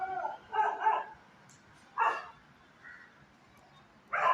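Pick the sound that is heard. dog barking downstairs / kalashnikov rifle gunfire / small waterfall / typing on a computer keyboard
dog barking downstairs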